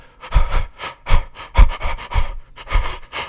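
Breathboxing: heavy, rhythmic panting breaths imitate beatbox drum hits, with sharp inhales and exhales pulsing in a steady groove, close and alone.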